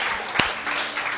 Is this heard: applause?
yes